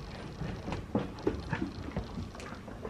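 A dog plays with a cheap dollar store toy meant to stick to the ground, close by, with soft panting and scattered light taps and scuffles in short bursts.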